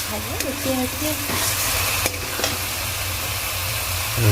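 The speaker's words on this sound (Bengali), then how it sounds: "এর মধ্যে কিছুটা জল দিয়ে আর একটু মশলাটা ভালো করে কষিয়ে দিই" Spice masala with tomato paste being stir-fried in oil for chicken kosha, a loud continuous sizzle with scraping stirs close by, a brief voice at the start.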